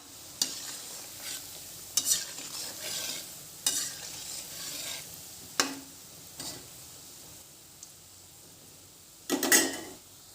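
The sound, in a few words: gulab jamun balls frying in hot oil in a kadai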